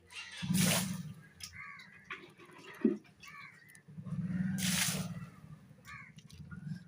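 Water is bailed out of a pond during fish catching, with two loud sloshing splashes of thrown water, drips and wet squishing in between, and people talking intermittently.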